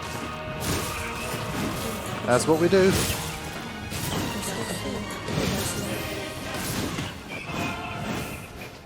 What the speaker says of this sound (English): And this little kid was just like smashing it up.